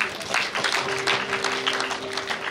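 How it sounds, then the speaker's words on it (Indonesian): Brief applause at a church or family celebration, a small group clapping in uneven bursts, with a low sustained hum beneath. "Mari kita beri tepuk tangan yang meriah"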